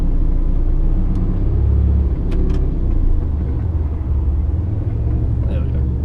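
A heavily loaded truck's engine labours and rumbles as it strains through an early shift into second gear, a deep continuous drone with small surges, close and loud throughout.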